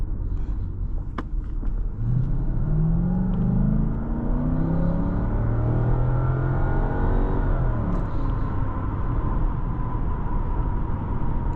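Steady V8 engine rumble from inside a moving 2007 Lexus LS 460, with a deep tone that rises and falls as it accelerates, constant road noise underneath.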